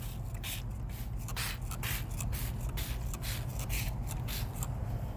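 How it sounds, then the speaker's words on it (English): Quiet, steady hiss of spraying a hibiscus plant and the ground around it for aphids, with soft irregular bursts and rustling, close by, no talking. "Spray the ground around it."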